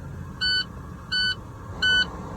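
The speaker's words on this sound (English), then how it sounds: "Low air alarm buzzer test is okay." A truck's low air pressure buzzer, triggered at 61 psi during an air brake test, sounds three evenly spaced electronic beeps over a low idling engine rumble.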